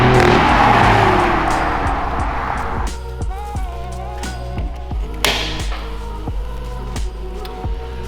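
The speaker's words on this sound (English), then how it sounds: "kick it in sport mode, kicks my exhaust up, and you get all the backfires and the pops" A BMW car engine in sport mode revs loudly and then settles, followed by a string of sharp exhaust pops and crackles at an irregular rhythm.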